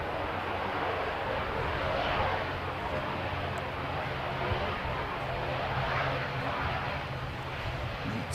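Airliner arriving from Queenstown passing at Christchurch airport, a steady broad jet roar that stays loud throughout with little change, heard at moderate distance, with voices talking faintly underneath.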